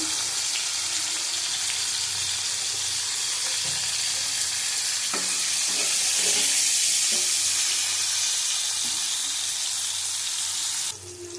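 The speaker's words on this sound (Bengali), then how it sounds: "উচ্ছে ভাজা হয়ে গেছে, তুলে নেব।" Bitter gourd fries in hot oil with a constant loud sizzle, punctuated by a few clinks and scrapes of stirring.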